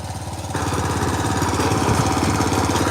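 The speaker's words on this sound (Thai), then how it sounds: "นี่ก็จะเป็นรถขุดล่องนะคะ" A used excavator's diesel engine runs loud and close, a steady chugging rumble that revs up sharply after half a second and holds, with no talking.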